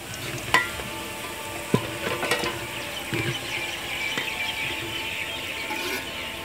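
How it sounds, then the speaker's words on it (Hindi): Onions fry in a pan for Hyderabadi chicken dum biryani, giving a steady close sizzle with occasional clinks of stirring, with no talking. "प्याज का रंग सुनहरा होने तक इनको पकाएंगे।"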